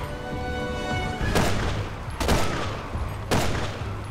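Three loud, widely spaced gunshot bursts ring out in the Resident Evil 6 video game, each a sharp crack with a short echoing tail over a steady low ambient hum.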